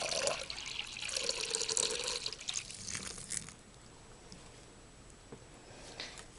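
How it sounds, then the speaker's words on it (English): Water poured into a tarantula's water dish, a close running trickle and splash for about three seconds that then fades into quiet with a few faint drips. "Let me top off her water dish too while we're here."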